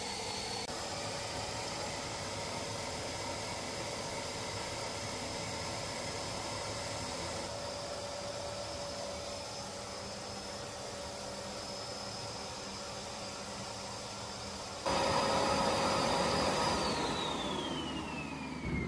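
A vacuum cleaner used to bleed new brake calipers on a Gilera DNA scooter roars continuously close by, a steady whooshing hum that jumps louder near the end and then drops in pitch as the motor winds down.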